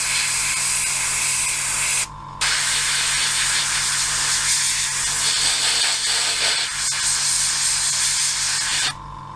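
A steady, close hiss of a Fengda FE-183K airbrush spraying paint finely, running almost continuously with two brief pauses where the airflow cuts off.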